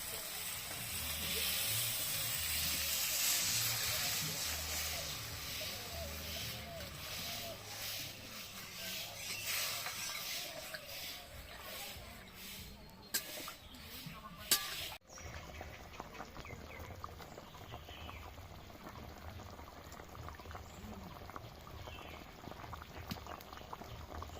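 Water simmers and bubbles in a pan of Bengali fish curry (aar macher jhal) after the liquid is added. It makes a steady, soft boiling fizz, louder at first and then quieter, with a few clinks near the middle.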